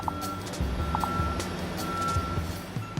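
A reversing truck sounds its backup warning, a series of evenly spaced beeps over a rumbling engine and the low noise of heavy machinery nearby.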